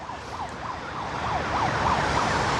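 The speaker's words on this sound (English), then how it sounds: "we got the siren going on there" A wailing emergency siren in West Drayton, its rising and falling pitch cycling steadily over traffic rumble and growing slightly louder, with no voices.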